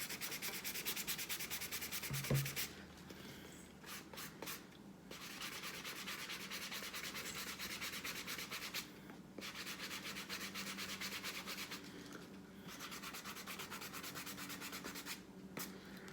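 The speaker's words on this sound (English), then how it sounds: "So we just keep sanding." Continuous rhythmic sanding to remove alcohol ink, a dry scratchy rubbing in long repeated strokes with brief pauses, close up and steady.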